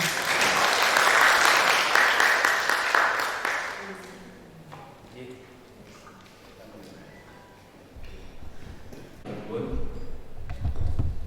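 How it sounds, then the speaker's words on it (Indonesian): A workshop audience of teachers claps for the guest presenter, a loud burst of applause that fades after about four seconds into quieter room sounds, followed by someone speaking. "Kami persilakan tepuk tangan untuk Ki Sutikno."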